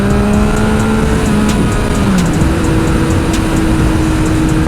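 A Ducati Panigale motorcycle's engine and exhaust roar close by as a loud, steady drone. Its pitch shifts and settles partway through, over constant wind and road noise.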